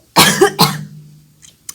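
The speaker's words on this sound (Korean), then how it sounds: "기침이 왜 나지?" Two quick coughs from a K-pop idol during a casual live eating broadcast, close and loud, followed by a brief low hum and a couple of faint clicks.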